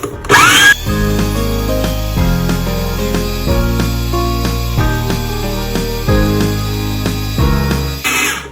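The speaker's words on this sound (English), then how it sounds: "And let's process." A food processor blends pesto in a kitchen, a loud, steady motor whir with shifting tones as the blade chops. Sharp clatters mark the start and the end.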